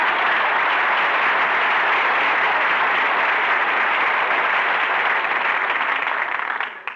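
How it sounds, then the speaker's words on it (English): A studio audience at a radio comedy show gives a big hand, dense sustained clapping that holds steady for several seconds and then tapers off at the end. "Folks, how about giving Don Wilson a big hand?"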